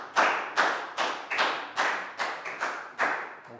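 A primary school class claps for a student after a science lesson picture presentation, a small group of hands beating together in distinct, rhythmic bursts roughly every third of a second, close and clear with no talking.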